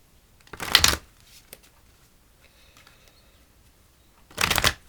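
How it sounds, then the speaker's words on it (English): A tarot-style meditation card deck shuffled twice, each a brief crisp riffling burst, separated by a few seconds of near silence. "Two more shuffles."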